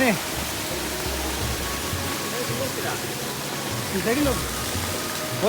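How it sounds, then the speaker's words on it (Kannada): Heavy water pours down a natural waterfall on a hillside near Tiruvannamalai, a steady dense roar of rushing flow that fills the whole clip, with faint voices beneath. "ಧಾರಾಕಾರವಾಗಿ ನ್ಯಾಚುರಲ್ ಲೈಫ್ ಫಾಲ್ಸ್ ಕ್ರಿಯೇಟ್ ಆಗಿದೆ"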